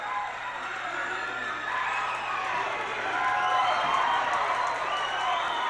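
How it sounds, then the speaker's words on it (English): A wrestling arena crowd roars and cheers continuously, a dense wash of voices swelling slightly midway, with a commentator's voice faintly mixed in. "Listen to this crowd."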